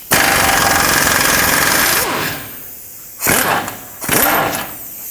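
A power tool rattles hard for about two seconds while removing a 21mm control arm bolt from a 2007-2010 Chrysler Sebring subframe. Two shorter bursts follow after a quieter pause, close and loud.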